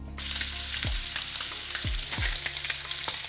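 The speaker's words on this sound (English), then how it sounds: "and then we'll get the sausage cooked" Sausage fries in a skillet with a steady, close sizzle, broken by a few soft scraping stirs; no voices.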